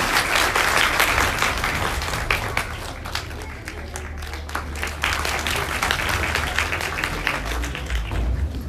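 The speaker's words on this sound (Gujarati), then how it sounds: "જોરદાર તાળી થઈ જાય એમના માટે." An audience at a primary school event in Juna Samadhiyala breaks into sustained applause, dense clapping from many hands that holds steady for several seconds, with a few voices faintly mixed in.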